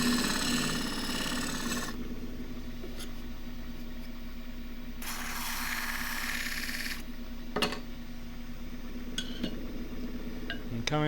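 A wood lathe hums steadily as the turning tool cuts into a wooden tray, with two longer bursts of scraping cutting noise and a few brief ticks in between.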